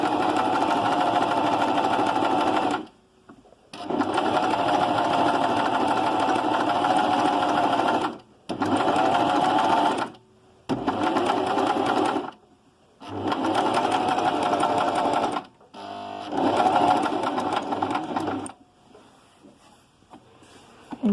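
Sewing machine running zigzag stitches in several steady bursts of mechanical whirring and rapid needle clatter, broken by brief silences between runs, close and clear with no talk.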